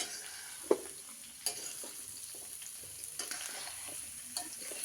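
Ginger, green chili, carrots and cauliflower for a winter mixed-vegetable pickle sizzle softly in oil, with a few clattering stirs and knocks against the pan over a steady low frying hiss, no talking.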